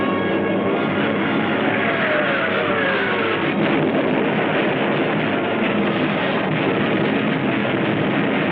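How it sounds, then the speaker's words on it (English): German night bombers in wartime flight, a steady broadband engine drone with slow pitch sweeps as the aircraft pass, continuous and fairly loud throughout with no voices. "All the available German night bombers were put into the"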